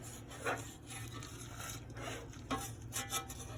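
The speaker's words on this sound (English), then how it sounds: "I'm just gonna mix this stuff in here the best that I can" Spices get mixed into water in a covered saucepan with a spoon, giving soft, faint scraping and rubbing strokes against the pan, a few slightly louder swipes, and no talking.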